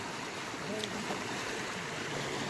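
Water flowing along the Saraswati river near the Mukteshwar Dam, a faint, steady rushing wash heard from a distance, unbroken and even throughout.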